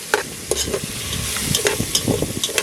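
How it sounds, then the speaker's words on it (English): Saltfish frying in a pan over an open fire, with a close, steady sizzle and crackle and repeated quick stirring scrapes; no one talks. "we have to fry up the saltfish man"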